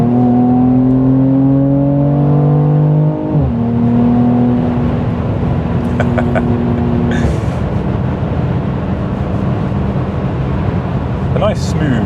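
Mercedes C43 AMG in Sport Plus mode accelerating hard, a loud in-cabin engine note climbing in pitch through several gear changes, with brief shift breaks and steady road roar underneath.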